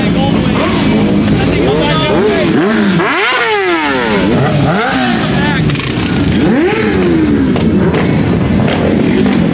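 Motorcycles rev loudly at a crowded bike meet, including a Triumph Rocket 3, with repeated rising and falling engine sweeps close by and constant crowd noise and talk underneath.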